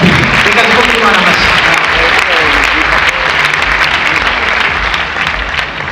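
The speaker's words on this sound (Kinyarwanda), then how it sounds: "reka dukomere Imana amashyi" A church congregation applauding to praise God at a gospel song launch, loud sustained clapping from a large crowd throughout with voices mixed in, fading slightly toward the end.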